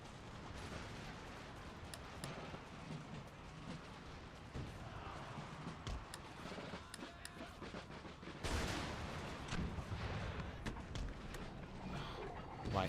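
Howitzer artillery barrages in Empire Total War, Prussia fielding its guns in a period battle: dense rumbling volleys and scattered musket crackle roll continuously, swelling louder partway through, with faint voices beneath.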